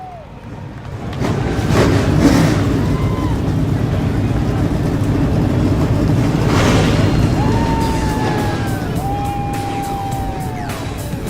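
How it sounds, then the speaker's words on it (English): Stock car engines starting in the iRacing video game at Road America, a broad sustained engine roar building and holding, loud and dense, with speech present around it. "drivers, start your engines"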